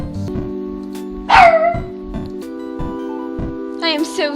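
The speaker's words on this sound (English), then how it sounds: "I am so sorry that my dog is making a ruckus." A dog barks and yips sharply a few times close by, a loud yelp followed by shorter barks over a steady droning background with a brief voice near the end.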